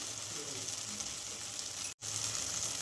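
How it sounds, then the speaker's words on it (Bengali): Spice paste with turmeric and a little water being sautéed for an eel (baim) fish curry, a soft continuous sizzle throughout with a very brief dropout near the end. "মশলাটাকে ভালোভাবে কষিয়ে নেব"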